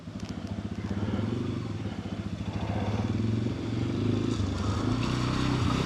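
A motorcycle in first gear grinds over a rough, wild back-road trail, its engine pulsing steadily and loud up close with clatter and scrape from the terrain throughout.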